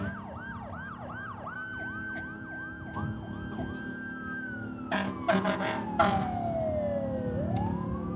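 A fire truck siren wails in repeated rising sweeps during a St. Patrick's Day parade, then holds a long tone and slides down, with horn blasts and traffic around it.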